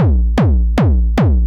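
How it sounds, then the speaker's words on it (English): Four evenly spaced kick drum hits from an Ableton DS Kick synth, deep and punchy with a quick pitch drop, loud and dry with nothing else playing. "And so I start with the DS kick."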